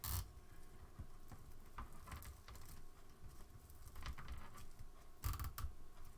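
A zip tie being pulled tight around a Dollar Tree candy cane wreath form, giving faint, quick ratcheting clicks and soft rustles in an otherwise quiet room.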